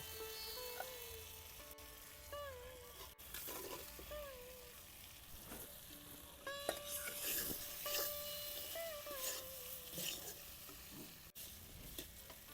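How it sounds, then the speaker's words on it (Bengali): Potatoes tip into spices frying in a pan for a Bengali soybean curry, with steady close sizzling under repeated stirring and scraping scrapes throughout, no voices. "মশলাগুলো 2-3 মিনিট ভেজে নিলাম, এখন আলুগুলো দিয়ে দিব।"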